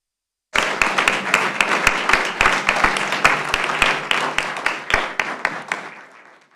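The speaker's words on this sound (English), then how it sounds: "Let's have another round of applause for our Provo Awards." Audience clapping at a school district board meeting in honor of award recipients, a dense round of many hands that starts abruptly, holds steady with sharp individual claps standing out, then thins and fades over several seconds.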